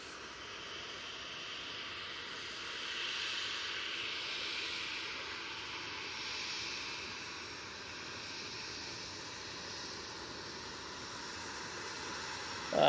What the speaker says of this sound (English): I think this Ryanair is going to pop down right in front of us